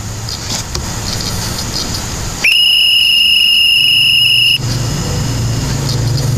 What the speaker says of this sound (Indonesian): itu merupakan contoh dari suara peluit, dan itu merupakan suara buatan